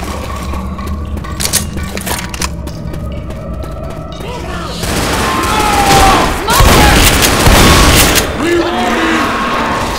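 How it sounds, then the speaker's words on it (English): Pipe bomb blast in the zombie shooter Left 4 Dead, a loud broad boom rising midway and sustained, with gunfire crackling before and after amid game noise. "Grab the pipe bomb and chuck it out here just to clear it out"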